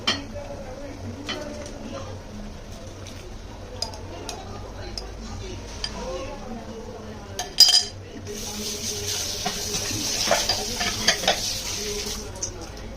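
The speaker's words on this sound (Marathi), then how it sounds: "आता मी हे पनीर आणि मशरूम त्याच्यामध्ये टाकते" Paneer and mushroom pieces drop into a masala in a pan, then a steady sizzle with stirring and scraping of a spoon against the pan, brief clinks standing out and the frying growing louder near the end.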